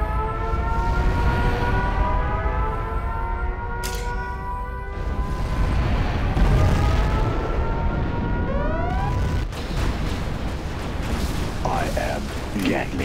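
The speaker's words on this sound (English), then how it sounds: "We have launched our nuclear missile." A nuclear missile explosion in Command & Conquer Generals Zero Hour: a heavy, sustained rumble with wailing siren-like tones sliding overhead, loud and continuous.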